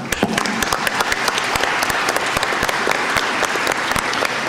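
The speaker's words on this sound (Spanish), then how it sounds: "para quienes pido un fuerte aplauso" Sustained, loud applause from a political forum audience on agroecological producers and responsible consumers, dense steady clapping filling the room without talk.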